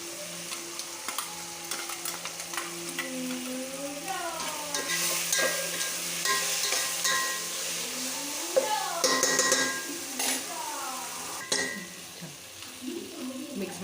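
Garlic-ginger paste with mint and coriander is stirred in a hot pan for mutton yakhni pulao. A close, continuous sizzle mixes with scraping spoon strokes against the metal, while a person talks over the cooking.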